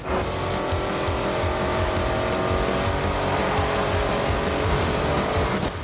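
Race cars roaring through a race in Need For Speed Most Wanted 2012, engines droning loud and continuous with rising revs and tire noise layered together, no talking.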